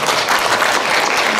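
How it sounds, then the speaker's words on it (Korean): Dense, steady audience applause fills a seminar hall during a panel debate on awakening held by an early Buddhist scripture study group, many hands clapping together at an even, close loudness throughout. "여러분 김재호 후보님께 한번 큰 박수 보내드리면 어떨까요?"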